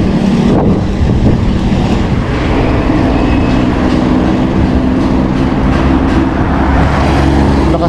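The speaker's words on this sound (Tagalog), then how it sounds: "Lakas ng hangin." Strong headwind buffets the microphone during a bicycle ride in Davao, a constant, heavy low roar that persists throughout, with no voices heard.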